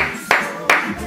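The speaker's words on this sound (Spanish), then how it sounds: "démosles de medida un aplauso a Jesucristo" A church congregation bursts into applause in two sharp waves, each onset loud and close before the clapping thins, with room reverberation behind it.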